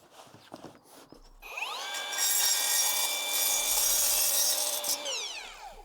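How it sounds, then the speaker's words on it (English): A miter saw spins up with a rising whine, bites through a soffit board in one sustained loud cut, then winds down, with a few handling knocks before it starts. "I did have to cut down a length using my miter saw"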